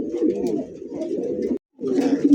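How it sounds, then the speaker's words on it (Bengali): Yellow king pigeons coo in a low, throaty, continuous murmur at close range, with a short silent gap before the cooing resumes. "তাও ইয়েলো কালার কিং কবুতর।"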